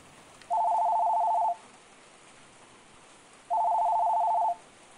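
Telephone ringing as a stage sound effect during a dramatic reading about flood memories at a prefectural cultural festival in Niigata: two steady electronic ring bursts about a second each, separated by a pause, over faint rain-like background hiss.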